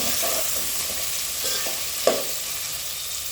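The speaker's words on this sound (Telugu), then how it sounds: "చూడండి ఇట్లా మంచిగా జస్ట్ ఫ్రై చేసుకోవాలి ఇప్పుడు" Vegetables for veg khichdi fry in a pan with a steady, close sizzle, a few soft stirring scrapes, and one sharp clink partway through.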